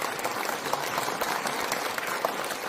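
Applause from an audience at a residents' meeting on a redevelopment project, a steady dense patter of many hands clapping for the full length at moderate room loudness, with no voices over it.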